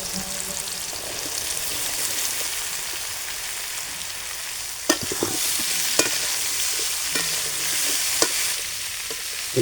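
Mankachu (giant taro) and potato pieces fry together in a pan with turmeric and salt, giving a constant close hiss with a few sharp scraping knocks of a spatula.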